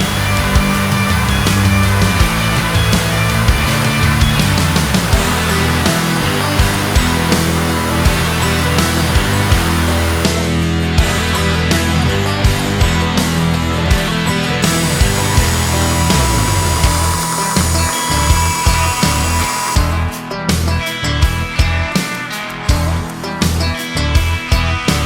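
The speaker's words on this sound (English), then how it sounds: "we're gonna use a bandsaw and then some of our trusty grinders" A bandsaw and grinders cut and shape knife steel, giving a loud, continuous whine with a high tonal ring that shifts in pitch and texture as the work changes partway through.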